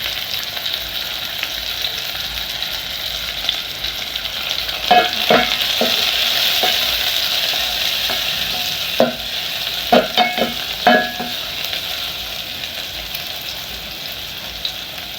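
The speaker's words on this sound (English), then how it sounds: "Then we add in our garlic." Garlic sizzles steadily in a frying pan, with a constant bright hiss broken by scattered scraping clicks from a utensil stirring it.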